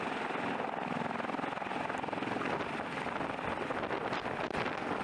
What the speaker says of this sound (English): The rotor slowly gathers speed until the massive blades create a deep, heavy beat.